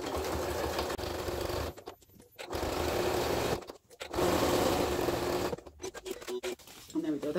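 A sewing machine runs a regular straight stitch through Cordura fabric, whirring in three bursts separated by short pauses.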